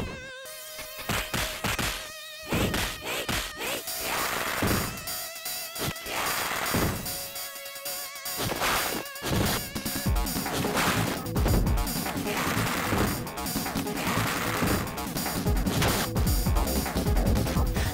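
Chaotic techno music from the Sega game Streets of Rage 3: buzzing synth lines and choppy hits that grow into a dense, harsh, continuous wall of noisy beats, with no voices.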